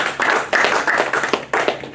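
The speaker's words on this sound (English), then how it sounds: "Round of applause, please." An audience claps for a guest speaker, a close, brisk patter of many hands that rises and falls in short uneven surges over about two seconds.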